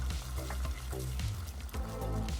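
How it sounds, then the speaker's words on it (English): Garlic chips from one large clove frying in cooking oil in a pan, a steady close sizzle and crackle with soft stirring clatters mixed in. "We're gonna flavor that oil with some of these garlic chips"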